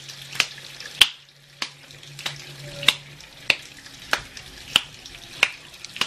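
Ground beef formed into a homemade hamburger patty and slapped between the hands, giving sharp wet smacks at a steady rhythm, about nine in six seconds, close and clear with no talking.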